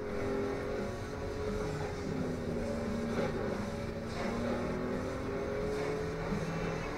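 Car racing at very high speed in Need for Speed: Undercover, a sustained engine whine with shifting pitch and a steady roar, close and continuous with no talk.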